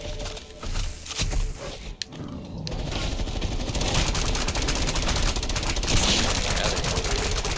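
Call of Duty Black Ops Cold War Zombies gunfire: a few scattered shots, then sustained rapid automatic fire, loud and dense, with game noise underneath.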